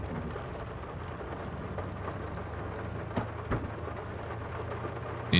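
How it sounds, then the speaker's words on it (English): Steady rain hisses softly in Farming Simulator 22, with faint rumbles of thunder and a few dull thumps breaking through. "At least I'm not harvesting in the rain."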